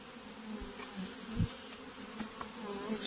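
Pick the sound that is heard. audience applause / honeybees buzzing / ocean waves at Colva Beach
honeybees buzzing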